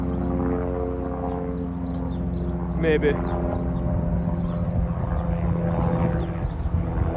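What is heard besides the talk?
helicopter flying past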